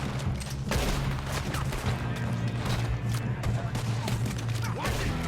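Gunfire fills a train robbery in Red Dead Redemption 2 as dense, steady volleys of shots crack and thump without a break, loud and close throughout.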